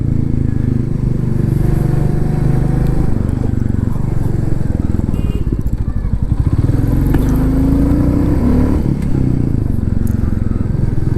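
A motorbike engine runs steadily in a mountain village in Uttarakhand, a continuous low rumble with some clatter and scraping, close and loud throughout, with faint voices underneath.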